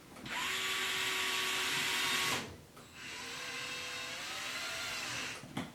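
A power drill drives a screw while a Wide Maxx kit is installed, whirring loudly and steadily in two long bursts separated by a brief pause, with the second run at a slightly lower pitch and ending in a small clunk.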